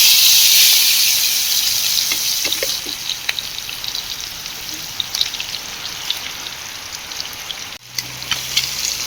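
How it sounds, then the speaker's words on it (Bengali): Prawns fry in hot oil in a wok with a bright, continuous sizzle, loudest at the start and easing slightly, with a few soft clinks and scrapes of stirring and no talk. "তেল গরম হয়ে গেছে, এখন আমি মাছগুলো ভেজে নেব।"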